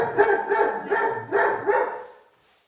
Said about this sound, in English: we have Einstein barking more than anybody.